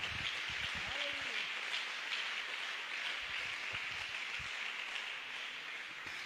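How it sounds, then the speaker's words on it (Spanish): A church congregation applauds, a dense steady patter of many hands that fills the whole stretch at a moderate distance, with a voice briefly rising over it near the start. "Fuerte ese aplauso para el Señor Jesús"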